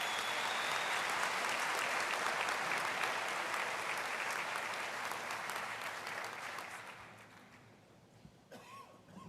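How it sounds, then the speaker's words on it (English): A hall full of people applauds at a university autumn graduation ceremony, a long, loud, dense clatter of clapping that gradually fades out near the end. "give the cleaners, the securities, the students a thunderous round of applause for the work they've done"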